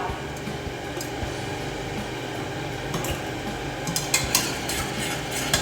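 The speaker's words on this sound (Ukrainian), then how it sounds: "Та інтенсивно все перемішуємо" A whisk or spoon rapidly mixes egg yolks, sugar and corn starch in a bowl for an Esterházy cake cream, producing a steady close scraping stir with a few sharper clinks near the end.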